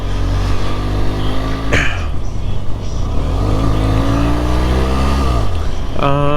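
A motorcycle engine revs under a rider working the throttle, rising and falling in pitch against steady loud wind rush, and a voice talks over it.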